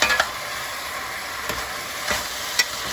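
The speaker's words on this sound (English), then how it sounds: "I'm gonna stir this around just a little bit" Braised Caribbean oxtails sizzle steadily in a pot, with a few soft scraping stirs of a spoon breaking through the constant frying hiss at close range.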